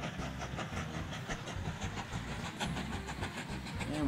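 Train running in the video game Mashinky: a soft, steady rolling rumble with rhythmic clickety-clack of wheels on rails and faint engine noise, fairly distant and without voices.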